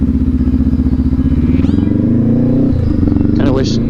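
A 2019 Honda CB500X parallel-twin engine idles with a loud, steady throbbing exhaust pulse right up close, while people talk over it and a brief high whine rises near the end.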